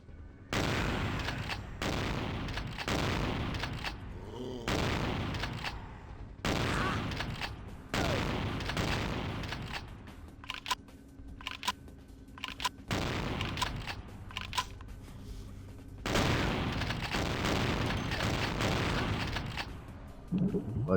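Repeated heavy shotgun blasts from Vampire the Masquerade Bloodlines, loud and booming, roughly every couple of seconds with echoing tails and some game noise between shots.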